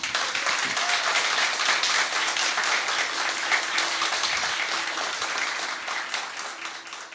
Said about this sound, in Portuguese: Uma salva de palmas para o palestrante.